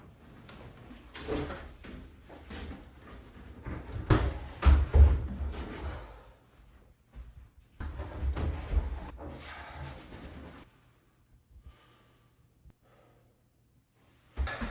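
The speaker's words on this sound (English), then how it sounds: "I forgot to put the door clasps back before I put it in. So I'm gonna do that now." Clunks and knocks of hardware being refitted onto the wooden doors of an armoire converted into a gun cabinet: irregular bursts of close handling noise, then quieter scrapes and a long near-silent stretch.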